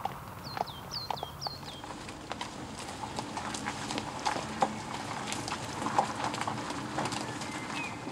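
Arabian horses being exercised outdoors, hooves clip-clopping in a steady, fairly close walking rhythm, with a few bird calls early and a soft outdoor background.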